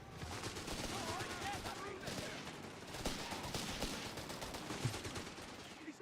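Enemy gunfire in Company of Heroes 3, a faint, steady crackle of rifle and machine-gun bursts with distant artillery booms, layered under game voice callouts.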